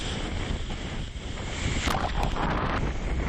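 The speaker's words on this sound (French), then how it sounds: "Vent fort et mer formée." Strong wind buffets the microphone over the rush of a rough sea during a sailing race, a steady roar with surging splashes toward the end.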